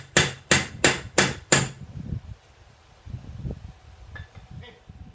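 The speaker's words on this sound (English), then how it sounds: "I'm just gonna pop it a couple more times with the hammer" Five sharp, evenly spaced hammer taps drive a railroad-spike axe head onto its handle, loud and close, followed by quieter handling noises.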